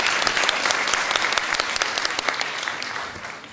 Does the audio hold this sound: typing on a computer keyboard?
no